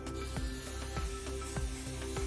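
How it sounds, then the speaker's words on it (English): Several short hissing bursts from a can of cooking spray onto a mug, spaced roughly a third of a second apart, close by over a steady background hum. "I think we'll spray it again"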